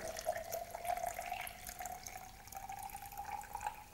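Blue-dyed water poured steadily into paper bedding for small pets during an absorption test, a continuous close faucet-like stream with a faint ringing tone and no talking.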